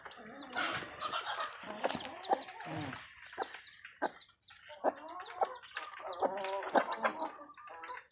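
Chickens, including a hen with her small chicks, cluck in repeated bursts at close range, with scattered calls, faint voices and farmyard sounds between them.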